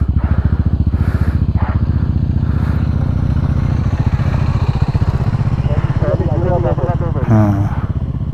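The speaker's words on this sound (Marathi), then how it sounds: "बाईक जात आहेत ना" Motorcycle engines thrum close by in a continuous pulsing rumble as bikes pass, with voices talking over them.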